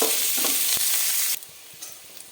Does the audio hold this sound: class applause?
no